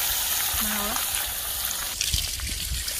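Water splashes and trickles steadily while garden plants are watered outdoors, a fairly loud continuous wash of liquid.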